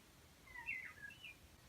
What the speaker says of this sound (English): There's a bird in the fireplace.